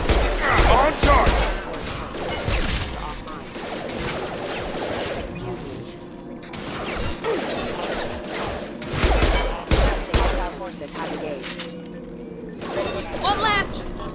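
Gunfire in the game Mass Effect 2, with bursts of shots and impacts coming in clusters under intermittent talking and battle chatter.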